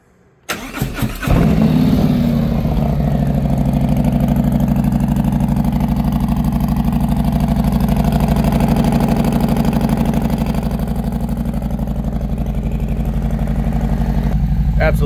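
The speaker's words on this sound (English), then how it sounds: "Absolutely love that Road Rage Bassani exhaust system" A 2024 Harley-Davidson Road Glide fitted with a Bassani Road Rage 2-into-1 full-length exhaust fires up after a second of quiet, then settles into a loud, deep, steady idle rumble that continues close by throughout.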